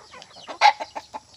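Short bursts of clucking and chirping from Rhode Island chicks, a series of quick calls close by with one louder squawk in the middle.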